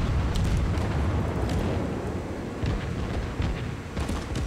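Heavy naval gunfire from a video game sea battle with the Japanese cruiser Mogami firing on the enemy cruiser Alba, a deep continuous rumble of booming shell hits and blasts, dense and loud throughout.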